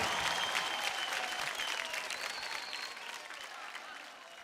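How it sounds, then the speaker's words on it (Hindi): A television comedy show studio audience claps enthusiastically for guests Bharti, Pritam and Karan, a dense wash of applause and cheering that starts loud and gradually fades. "जोरदार तालियां हो जाए भारती,"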